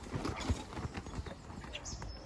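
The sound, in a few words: horse hooves trotting in dressage arena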